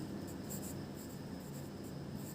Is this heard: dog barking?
no